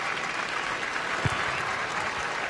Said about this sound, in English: taking the applause as he goes off in his record-breaking cap